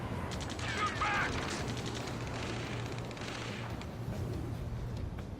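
Battle gunfire from the video game Ace Combat 7 keeps up a dense, continuous rattle of shots, with a low hum running beneath and faint voices mixed into the combat noise.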